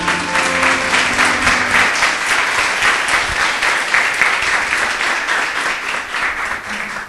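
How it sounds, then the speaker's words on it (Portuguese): A church congregation claps hands loudly and steadily at a worship service, dense sustained applause filling the space for several seconds with faint music underneath at the start. "Louve a Deus com suas palmas,"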